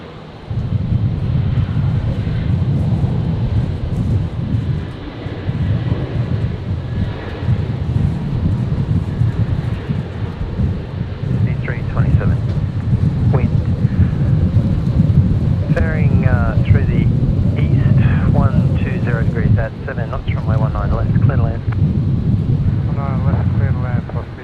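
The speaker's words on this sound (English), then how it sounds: "So Jetstar 569 rolling now. The 321 Neo heading down to Melbourne." Jetstar Airbus A321neo rolling for takeoff at Brisbane airport, bound for Melbourne: a steady, loud low rumble of jet engines fills the whole stretch, with wind buffeting the microphone and brief voices and chirps breaking through on top.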